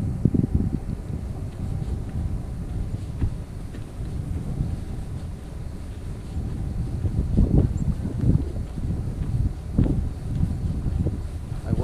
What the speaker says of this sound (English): the winds are gusting to 48 kilometers an hour